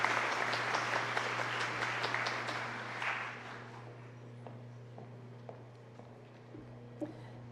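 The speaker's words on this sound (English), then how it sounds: "let's give Mr. Dorsey another round of applause" Audience applause at a Bowie State University Founders Day ceremony, a dense burst of clapping for about three seconds that then thins to a few scattered claps over a steady low hum.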